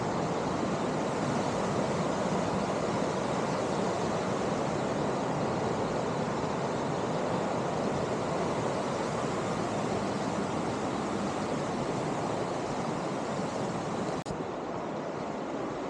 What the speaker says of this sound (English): Check out this creek, Sweetwater Creek,